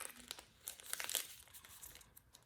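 Origami paper being unfolded and refolded up close, soft crinkling and crisp rustles in short bursts, quiet and intimate.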